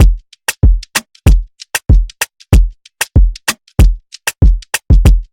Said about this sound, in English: This is from Mastercraft Pack, the MSP Kick 3. Very nice and punchy